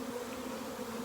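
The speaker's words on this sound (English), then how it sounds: "Chances are the queen is in this clump of bees right here." A dense, steady drone from a swarm of honey bees clustered in a clump, close and continuous with no pauses.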